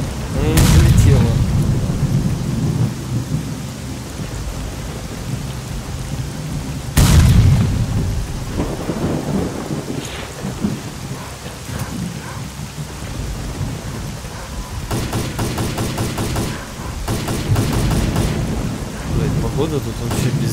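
Thunderstorm in the game S.T.A.L.K.E.R. Call of Pripyat: two heavy thunder booms roll out near the start and mid-clip over steady loud rain, with lighter rumbles and rain patter continuing throughout.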